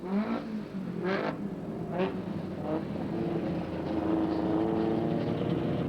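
Race car engine revving around the Redline Raceway circuit in 1990, a steady sustained engine whine rising in pitch, with a few brief bursts of louder revving early on, heard continuously at moderate distance.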